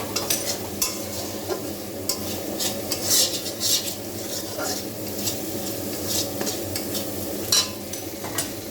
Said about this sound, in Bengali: কষিয়ে নিচ্ছি। আর 2 মিনিট কষাবে।